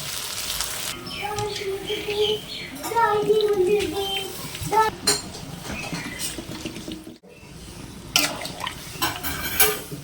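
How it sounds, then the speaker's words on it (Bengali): Water poured into a pot of mutton curry with potatoes, a splashing, bubbling pour with clinks of a pot, moderately close, briefly interrupted before resuming, with faint voices in the background. "এবার আমি পরিমাণ মতন জল দিয়ে দেবো।"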